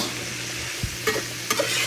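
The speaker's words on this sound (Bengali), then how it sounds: "তো এখানে আমি চিচিংটা ভাজা করে নিচ্ছি" Snake gourd (chichinga) frying in a pan with black cumin seeds and dried red chillies, a steady close sizzle with a few scraping stirs of the spatula, no voices.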